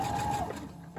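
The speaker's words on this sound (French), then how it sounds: "je fais un petit point d'arrêt que j'ai en automatique avec ma machine" A home sewing machine runs an automatic backstitch on a fabric face mask, a short, steady mechanical whir and hum lasting about a second, close and loud.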